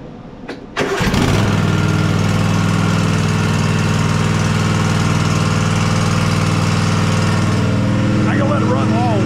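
A Husqvarna Z248F zero-turn mower with a Kawasaki FR651V engine cranks and catches, then settles into a loud, steady, close idle that runs on evenly with no speech.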